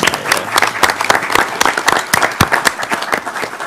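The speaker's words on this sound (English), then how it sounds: "Round of applause for all our teachers." Round of applause for teachers at a school board of education meeting, steady close clapping from a modest group of people, continuous for several seconds without speech.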